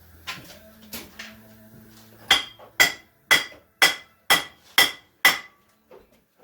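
Several loud, evenly spaced hammer blows ring out in a steady rhythm, preceded by a few softer knocks and clatter.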